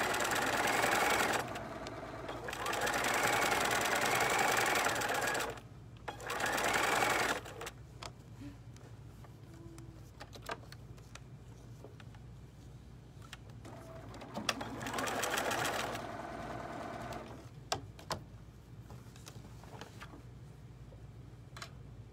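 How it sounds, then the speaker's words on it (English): A sewing machine stitches right next to a seam on a hat in short bursts, several loud whirring runs separated by pauses filled with soft clicks and handling of fabric. "you're really stitching right next to the seam"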